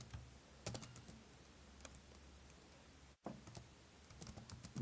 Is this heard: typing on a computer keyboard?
yes